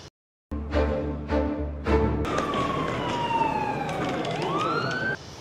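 An ambulance siren at a train station wails in sweeping rising and falling tones, loud and close, following a few short tonal hits at the start.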